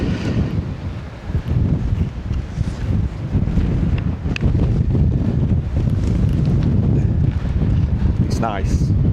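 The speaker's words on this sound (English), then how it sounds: "It is nice and it is breezy." Strong, gusty wind buffets the microphone at the Butt of Lewis headland on the Isle of Lewis, a steady low roar that swells and stays heavy throughout, with a person speaking over it.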